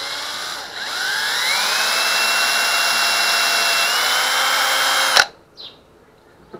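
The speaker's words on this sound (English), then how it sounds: "drill you a hole in there" A power drill whines steadily for about five seconds, loud and close, its pitch shifting slightly as it bores a hole for a homemade fishing sinker, then cuts off with a clunk.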